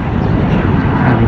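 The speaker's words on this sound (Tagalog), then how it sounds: "yan ang aeroplano" Airplane flying low near Dubai airport over the Al Rashidiya area, a loud steady jet roar filling the whole brief moment outdoors.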